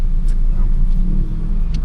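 Car engine rumbling low and steady in Saturday traffic, heard from inside the vehicle as a continuous loud drone with no clear revving.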